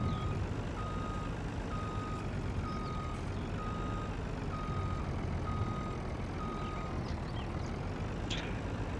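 A truck in the Farming Simulator video game backing up, with a steady series of evenly spaced reversing beeps over a constant low engine rumble.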